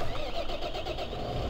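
A tractor engine in Farming Simulator 15 turns over and settles into a steady mid-pitched running drone, close and continuous throughout.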